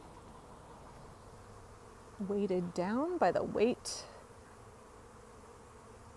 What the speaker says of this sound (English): There's several hundred bees still in the air.